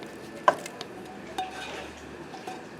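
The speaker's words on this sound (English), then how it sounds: "We're adding all of this to the beans." Ingredients tipped into a pot of beans, with a sharp clink of a utensil against the pot followed by soft scraping and light knocks.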